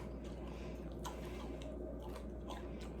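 Close, quiet crunchy chewing of a deer venison sausage ball, with several crisp bites over a low steady hum.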